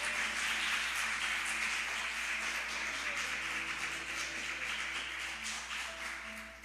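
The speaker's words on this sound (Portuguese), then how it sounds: "queria que a igreja aplaudisse ao Senhor" Church members at an evening deliverance service clap together in a broad, continuous patter, with a faint sustained tone humming underneath as the applause slowly tapers off.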